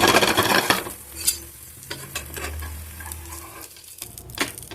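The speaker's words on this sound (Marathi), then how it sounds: "आणखीन आपण थोडंसं तेल टाकून घेऊया आणि खरपूस आपलं थालीपीठ शेकून घेऊया" Bajra thalipeeth shallow-frying in a little oil on a pan, a steady soft sizzle broken by scraping and clinks of a spatula or utensil against the pan, close by with no talking.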